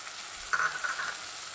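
Ground masala and spices being stirred in a pan for Maharashtrian masale bhat, a quiet steady sizzle with a brief scraping stir sound near the middle, no talk.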